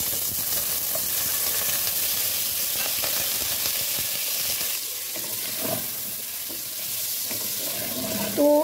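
Chicken sizzles steadily in hot oil with whole black peppercorns and a bay leaf while a spatula stirs and scrapes the pan, a continuous close frying hiss with occasional louder scrapes near the end.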